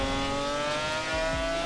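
A BMW M4 F82 engine in GTA 5 revs steadily with a sustained harmonic drone and rising pitch sweeps, close and loud, with no talking.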